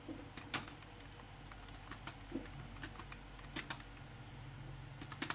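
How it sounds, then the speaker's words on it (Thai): Keyboard typing during a Roblox game session, a steady run of light key clicks scattered across the clip, fairly quiet and close, with no talking. "คีย์บอร์ดไร้คุณภาพเลย"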